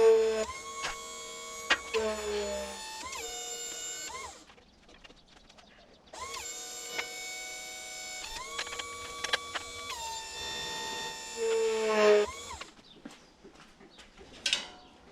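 A metal tube is bent for a golf cart steering part in a fabrication shop, with two long bursts of whining, tonal machine noise and clunks separated by a quieter gap.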